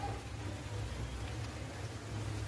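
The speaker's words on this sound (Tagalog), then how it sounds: "Kaya lang medyo maulan yan, no?" Steady rain falls around an outdoor motorcycle repair spot, a dense, even hiss that holds without pause for the whole stretch, with no voices over it.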